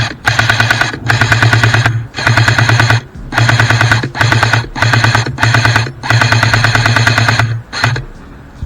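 A CYMA SR16 airsoft rifle fires BBs in rapid full-auto bursts, roughly eight loud mechanical strings of clattering shots separated by brief pauses, close to the listener.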